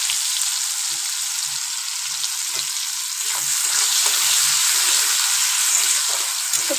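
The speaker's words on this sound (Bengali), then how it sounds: "আর কিছুটা ভাজবো পেঁয়াজ" Chopped onions sizzle in hot oil in a pan, a steady, close crackling hiss with tiny pops that runs without a break and with no talking.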